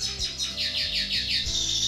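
Pet bird sings a rapid series of bright, close chirps in a steady repeating rhythm, ending on a slightly longer high note.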